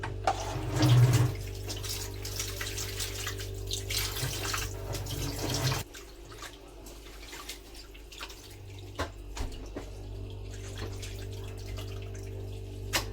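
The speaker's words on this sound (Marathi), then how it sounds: "आता हे मिठाच्या पाण्याने धुवून झाले" Salted goat intestines being rinsed under running water in a kitchen, a steady tap stream splashing for several seconds before it stops abruptly, followed by quieter drips and handling noises.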